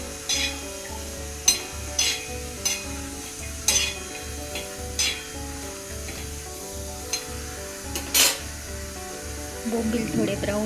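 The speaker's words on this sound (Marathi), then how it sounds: "बोंबील थोडे ब्राऊन होईपर्यंत भाजून द्यायचे आहे." Dried bombil (Bombay duck) fish roasting on a hot tawa, giving a soft continuous sizzle with occasional sharp scraping clicks, under a steady rhythmic background hum.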